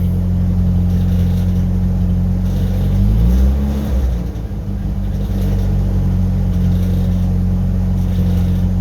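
A '91 Chevy S10 pickup with a homemade supercharger rumbles loudly at idle, then swells and dips in pitch midway as the throttle is blipped before settling back to a deep steady drone.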